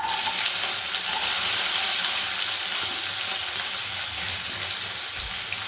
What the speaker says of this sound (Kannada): ಅದೇ ಪ್ಯಾನ್ಗೆ ಇನ್ನೂ ಸ್ವಲ್ಪ ಎಣ್ಣೆ ಹಾಕ್ಕೊಂಡು ಸಣ್ಣಗೆ ಕಟ್ ಮಾಡಿದ ಒಂದು ಈರುಳ್ಳಿಯನ್ನು ಹಾಕ್ಕೊಳ್ಳಿ